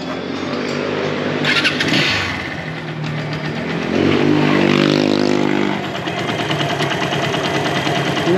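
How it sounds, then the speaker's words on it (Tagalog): A Keeway Cafe Racer 152 motorcycle engine with a newly replaced Honda Wave 125 tensioner idles close by, a steady ticking rumble that swells briefly as it revs, then settles back to idle. "So eto naman yung tunog ng motor ko nung napalitan na ng tensioner."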